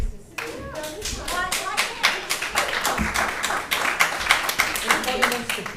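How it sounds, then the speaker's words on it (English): An audience at a North College Hill town hall meeting claps steadily and loudly, a dense run of hand claps with voices and chatter underneath throughout. "If you're clapping, no one can hear."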